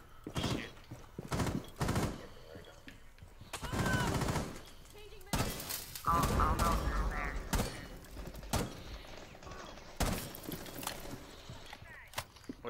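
Gunfire from a video game shooter crackles in loud, repeated bursts of rapid shots with pauses between, close and punchy, while a voice speaks over parts of the action.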